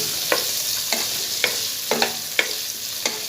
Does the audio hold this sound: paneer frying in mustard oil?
yes